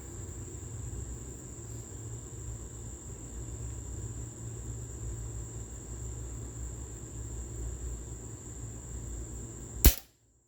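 Single shot from a Webley & Scott Xocet .25 calibre air rifle at 15 yards outdoors, one sharp thump near the end of a quiet, steady background hum, followed by sudden silence.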